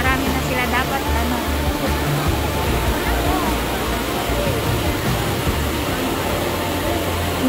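Water rushes hard and continuously at Tsuen Wan falls in Hong Kong, a dense, close roar of churning flow with people talking over it.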